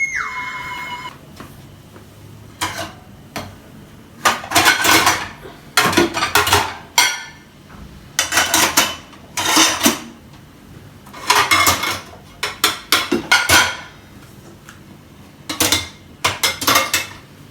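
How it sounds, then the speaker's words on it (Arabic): Ceramic plates clink and clatter in repeated bursts as they are stacked and arranged together, with short pauses between the close, bright knocks. "هحط كل اطباق شكل بعضها مع بعض عشان تبقى شكلها مرتب شويه"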